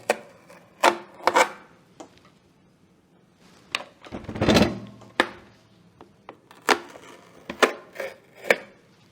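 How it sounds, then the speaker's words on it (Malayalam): Stickers being peeled and pulled off the sides of an air fryer's cardboard packaging box: a series of short, sharp tearing and rubbing sounds, close and fairly quiet, with one longer rip in the middle and no talk. "ഇതിൽ രണ്ട് സൈഡിലും ഓരോ സ്റ്റിക്കേഴ്സ് വെച്ചിട്ട് പാക്ക് ചെയ്തിട്ടുണ്ട് നമുക്ക് ഇളക്കിയെടുക്കാം"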